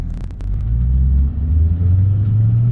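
A car's engine rumbles low and steady as an automatic rev-matching downshift drops it to first gear, the drone rising slightly and holding strong near the cabin, with no talk.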